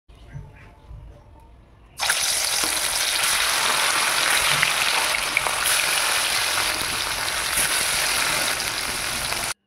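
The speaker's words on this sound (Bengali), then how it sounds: "বড় করে একটা বড়া ভেজে ফেলি" A large fritter (bora) dropped into hot oil bursts into a loud, dense, steady frying hiss after a quieter opening moment, continuing close and strong to the end.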